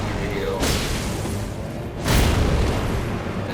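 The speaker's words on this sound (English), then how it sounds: "when he slams that shield down, it'll do like a delayed explosion" An Elden Ring boss slams a shield down and a delayed explosion follows: two loud booming bursts with whooshing tails, about a second and a half apart, under continuous talking.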